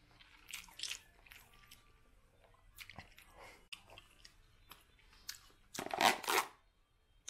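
Someone chews Nissin teriyaki beef chow mein noodles close to the mic, with soft wet bites and a few sharper crunchy chomps near the end.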